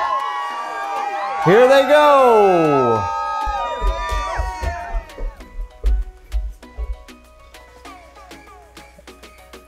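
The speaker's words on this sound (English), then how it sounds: "The crowd goes crazy." A crowd cheers and shouts loudly at first, with someone talking over it, then the noise settles into scattered clatter and thumps of TrackMaster toy trains racing through a tunnel.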